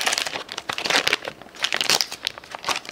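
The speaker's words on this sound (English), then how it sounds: "So inside there's a foil pouch. And inside the foil pouch" A foil pouch holding Polaroid pack film is handled and crinkled up close, giving loud, irregular bursts of crackling rustle throughout.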